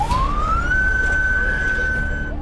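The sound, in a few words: ambulance siren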